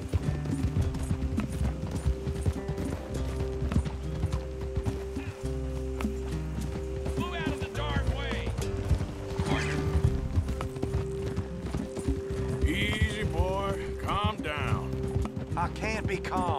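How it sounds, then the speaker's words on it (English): Horse galloping with a clip-clop of hooves and occasional whinnies in Red Dead Redemption 2, a steady rhythmic beat close by under game sounds, while a person talks over it. "is your horse not as quick as Ricky Bobby"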